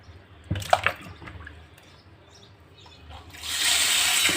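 Water poured over raw chicken pieces prepared with white vinegar and salt, starting with a few splashes and drips, then a steady running pour building loudly near the end.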